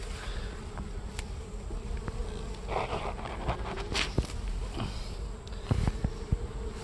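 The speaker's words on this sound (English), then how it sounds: "you see bees coming and going" Honey bees buzz steadily at a hive entrance, with individual insects droning past close to the microphone; no talking.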